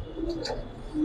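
Giribaz tumbler pigeons give a brief, close coo at a pigeon sale, a single soft throaty call with no talk over it.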